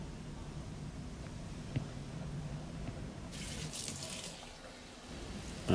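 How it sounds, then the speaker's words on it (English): Running tap water pours steadily as an Ember mug is rinsed in a sink after a bleach cleaning, a constant close rush with a brief brighter splash partway through. "And the final rinse with water."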